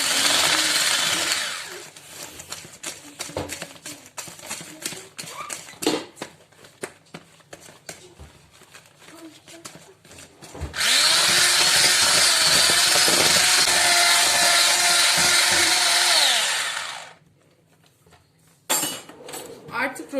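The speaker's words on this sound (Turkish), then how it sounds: "Kaşık yardımıyla karıştıracağım." A spoon clinks and scrapes against a bowl while cake batter is stirred together with sifted flour for a rolled cake, with stretches of close clattering, a loud steady noisy burst in the middle, and a speaking voice throughout.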